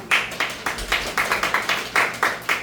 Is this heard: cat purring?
no